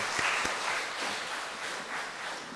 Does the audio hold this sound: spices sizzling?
no